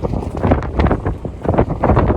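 Strong, gusting wind of about 25 knots sustained, gusting over 40, roars against the microphone in heavy, uneven surges, loud and close throughout.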